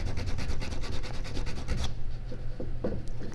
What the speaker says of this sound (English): You can, of course, use the hand sandpaper like this